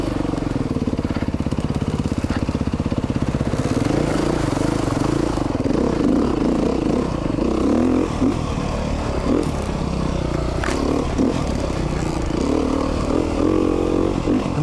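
A 2019 Beta 390 RR Race Edition dirt bike rides trails, its engine droning loud and steady throughout with rising and falling revs and occasional clatter.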